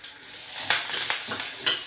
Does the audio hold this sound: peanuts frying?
yes